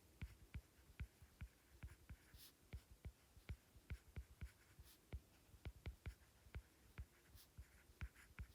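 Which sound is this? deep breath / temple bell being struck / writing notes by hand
writing notes by hand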